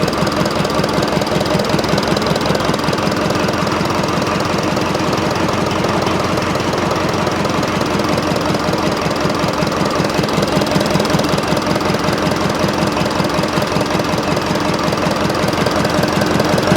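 An old abandoned crane's diesel engine idling without being revved, a loud, close, steady rapid knocking chug that runs evenly for the whole stretch with no voices.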